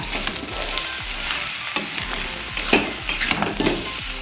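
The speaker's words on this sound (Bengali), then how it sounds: "এই এক চামচের মতো ঘি দিয়ে দিলাম এবার ঘিটা পুরো মিশিয়ে দিই" Melted ghee being stirred into food in a hot pan, with a low sizzle and a spatula scraping and clinking against the pan in uneven strokes, close up and without speech.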